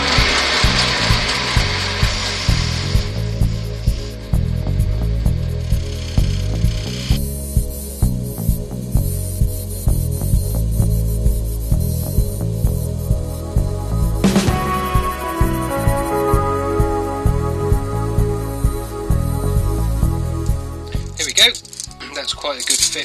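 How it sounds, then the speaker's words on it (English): A parting tool cuts a recess in wood turning on a lathe for a lazy Susan, making loud, rhythmic scraping and rubbing pulses over a low hum from the spinning lathe. "Now I've got to dig out the recess for the for the Lazy Susan, which I'm going to do with a parting tool"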